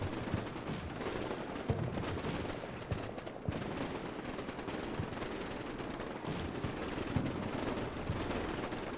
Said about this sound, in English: Holy crap, that's a lot of stray bullets.